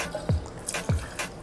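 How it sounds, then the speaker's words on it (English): Clase Azul reposado tequila is poured from its bottle in short bursts, giving soft liquid splashes and dribbles with two brief glugging gurgles, close and quiet with no talking. "Give it a little pour."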